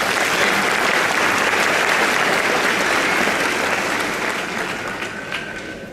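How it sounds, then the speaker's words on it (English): Sustained applause from a large crowd at a law school graduation, following a university choir, loud and dense at first, then gradually tapering off toward the end. "Please give them another round of applause"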